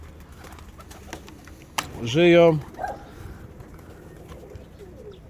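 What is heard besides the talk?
mewki pigeons cooing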